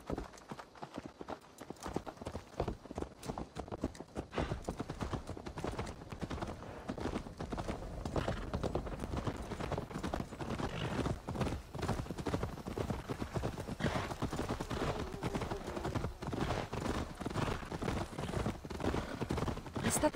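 Horse hooves clip-clop in a fast, steady galloping rhythm in the video game Assassin's Creed Valhalla, continuous and fairly close, with a low rumbling background throughout.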